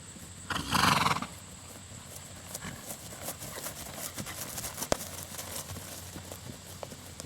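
A horse shifting about with a short loud whinny near the start, then scattered hoof thuds and movement noises at moderate distance, including one sharp knock midway.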